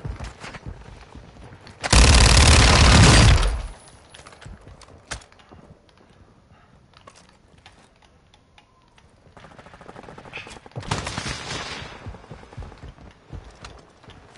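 A burst of heavy video-game gunfire from across the way rips out loud for about two seconds, followed by quieter scattered shots and a second, weaker rattling burst later on.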